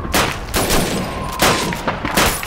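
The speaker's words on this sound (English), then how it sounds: "But for long range targets, a rifle is better. Step up to the shooting range." Rifle shots from Call of Duty 2 fired at bottles and plates on a shooting range, four loud sharp cracks spaced roughly half a second to a second apart over a steady game background.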